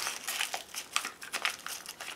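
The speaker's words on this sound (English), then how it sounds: "I am going to grab another doily, kind of crunch it up." A paper doily is crunched up by hand, making close, crisp crinkling and crackling in quick irregular bursts with no talking.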